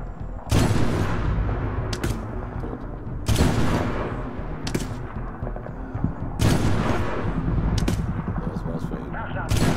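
Loud gunfire in the shooter game Medal of Honor Tier 1 arrives as heavy, booming bursts of automatic fire in four or five separate volleys, echoing amid battle noise while soldiers call out in German.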